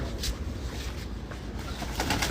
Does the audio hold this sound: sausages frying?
no